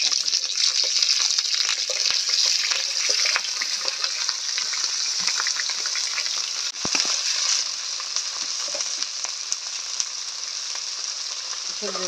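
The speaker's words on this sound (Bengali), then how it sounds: "সবজিগুলো ভালো করে ভেজে নিব।" Carrots and mixed vegetables fry in mustard oil in a wok with dried red chillies and panch phoron, giving a loud, steady, close sizzle that runs without a break and with no talking.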